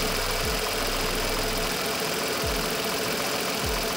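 A 2018 Nissan Datsun Redi-Go with a 1.0L engine idles, giving a steady, even mechanical hum with a faint low pulse, heard close and alone.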